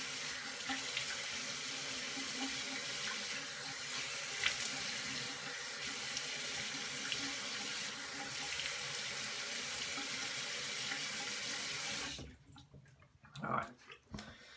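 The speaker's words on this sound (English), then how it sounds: "I'm gonna rinse the Alum Block off" Water from a tap runs steadily over an alum block for about twelve seconds, an even close splashing rush with no talk, then cuts off, leaving a few faint drips and handling sounds.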